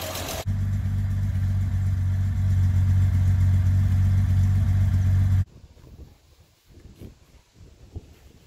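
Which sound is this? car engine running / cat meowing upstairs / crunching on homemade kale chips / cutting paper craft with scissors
car engine running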